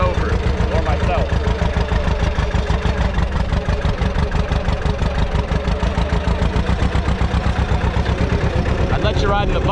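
A farm tractor engine runs steadily and loudly close by, with a rapid, even chugging pulse throughout.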